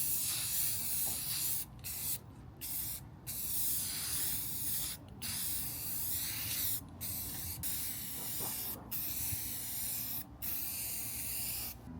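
Spray paint hisses in repeated bursts as a second coat goes onto homemade Harry Potter wands, several sustained sprays separated by short pauses, close and loud.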